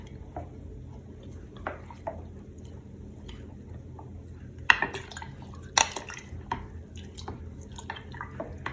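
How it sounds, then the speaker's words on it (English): Spoon stirring a heavy jar of sun tea, faint liquid swishing with a few sharp clinks of metal against glass, quiet and close, with small clicks in between. "I think I'll stir it."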